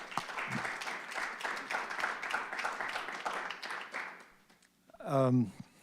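An audience at a community conversation event gives a round of applause, a dense patter of clapping that runs for several seconds and then fades out before a single voice begins speaking.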